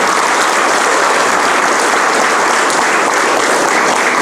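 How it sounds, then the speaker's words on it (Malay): A large audience at an award ceremony honouring Rio Olympic athletes bursts into loud, dense, sustained applause, a continuous wash of clapping from many hands. "Kita bagi tepukan besar, gemuruh kepada mereka."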